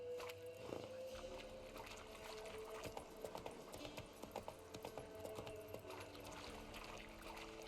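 A horse's hooves gallop in The Witcher video game, a quiet, rapid, steady clip-clop under faint ambient sounds, with no clear talking.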